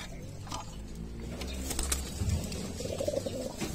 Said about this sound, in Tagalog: So yung mga kalapatids, ito na isang kalapate natin, yung finisher.